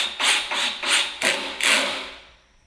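A cordless driver sets a self-tapping screw into a wooden bench seat in a few short pulsing bursts, close and loud, ending with a faint whine as it stops.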